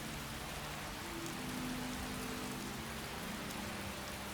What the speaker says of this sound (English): Ugh, rains again.